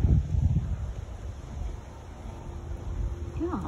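Wind blows across an outdoor yard as a steady, broad rush of noise that buffets the microphone with low thumps, strongest at the start and continuing throughout.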